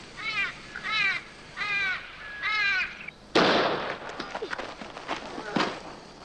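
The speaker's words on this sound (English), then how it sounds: "It's just an old crow." Four hoarse caws from a crow, evenly spaced and fairly close, followed by a sharp bang like a gunshot outdoors and scattered rustling and thumps in a 1958 short film scene.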